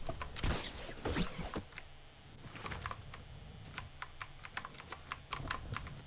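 Rapid, loud clacking of a computer keyboard being typed on, irregular keystrokes close up with no voices.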